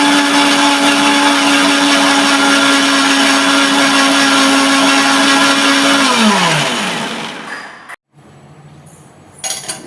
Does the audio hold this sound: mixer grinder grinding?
yes